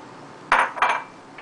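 Chopped tomatoes tossed into a cooking pot of stewed okra, two quick close clinks and splashes a moment apart against quiet kitchen background.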